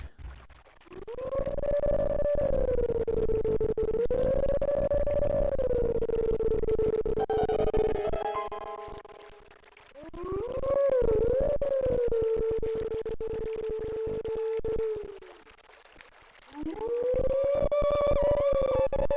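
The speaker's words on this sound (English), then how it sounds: "Here we have the howling mechanic." A wolf howls in The Legend of Zelda: Twilight Princess video game, giving three long, loud, steady tonal howls separated by short silent gaps.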